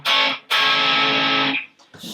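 A Yamaha GEP50 digital rack effects unit playing a distortion preset, giving a thin, tinny, buzzy tone in two sustained loud bursts with a brief gap, then a fainter fragment at the end.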